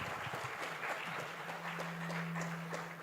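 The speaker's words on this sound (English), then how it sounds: "Another round of applause." Conference audience applauding after a presentation, a soft, distant wash of many claps heard through a livestream feed, steady throughout with a low hum underneath.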